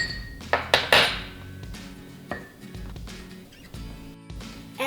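A utensil clinks and scrapes against a mug while mug pizza batter is mixed, a few bright knocks followed by irregular scraping and tapping, close by with no voices.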